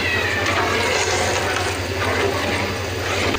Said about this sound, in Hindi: पानी डलेगा इसमें और